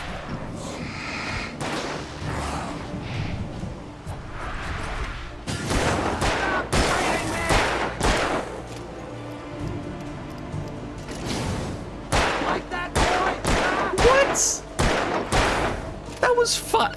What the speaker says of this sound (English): That was an entire clip into the countryside.